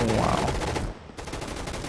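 Gunfire from the Gun Fight Arena video game rattles in a dense, loud burst, drops out for a brief gap, then resumes just as steadily.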